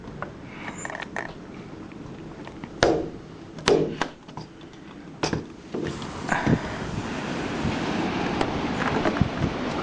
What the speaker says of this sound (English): The winds outside are at least 60 to 65 miles an hour sustained, with gusts going probably above 90 miles an hour.